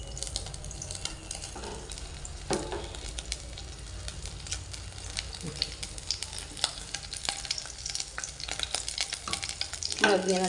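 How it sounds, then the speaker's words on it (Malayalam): Ghee heats in a cooking pot on a stove before rice goes in, giving a continuous crackling sizzle with scattered pops and occasional stirring scrapes, close and fairly quiet. "ഇനി ഞാൻ ചോറ് സെറ്റാക്കാനായിട്ട് പാത്രം അടുപ്പിൽ വെച്ച് നെയ്യ് ഒഴിച്ച് ഇനി അതൊന്ന് ചൂടാക്കണം."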